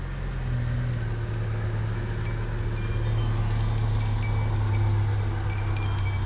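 A mail truck drives past in the rain, its engine a steady low hum that swells slightly, under constant rainfall hiss with faint ticks and no talking.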